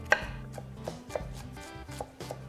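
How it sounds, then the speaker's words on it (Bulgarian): A kitchen knife chops onion on a cutting board. Several crisp, evenly spaced strikes land about every half second over a soft, steady background tone. "ще наситня лука и ще го задуша в малко мазнина"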